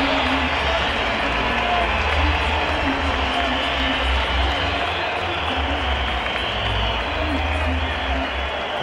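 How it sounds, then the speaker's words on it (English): A cricket crowd at a West Indies match applauds steadily for Richie Richardson reaching his half century, a broad, continuous wash of clapping and cheering heard under a commentator's voice. "Crowd appreciating a great captain's knock from Richie Richardson."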